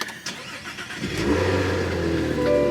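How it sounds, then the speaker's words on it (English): A Cadillac CT4-V Blackwing engine cranks briefly on a cold start in snow and catches, then settles into a steady, slightly high idle that holds for a couple of seconds. "Okay, I think this should be a cold start."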